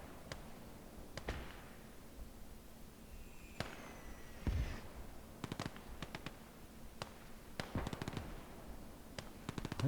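A KV tank fires at a mortar pit in the wartime game Call to Arms: Gates of Hell, with sharp cracks and bursts of gunfire scattered over several seconds, one heavier boom in the middle, against low battlefield rumble.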